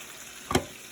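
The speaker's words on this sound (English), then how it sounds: "now we have Colin here putting the jerk pork chops in the pan" Jerk pork chops dropped into a long pan give a brief burst of sizzling frying about halfway through, rising sharply then fading back to a quiet background.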